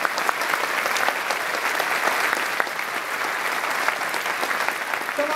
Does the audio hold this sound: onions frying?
no